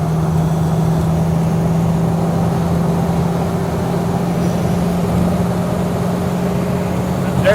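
1937 Ford Deluxe four-door with a flathead V8 cruising at about 60 mph on a freeway, a steady low engine drone with road and wind noise inside the car, unchanging throughout.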